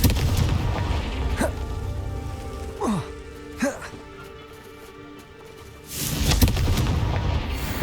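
Confringo fire spell exploding in Hogwarts Legacy, a few sharp blasts and a crackling burst against a rainy, rumbling game soundscape, with a voice casting spells nearby.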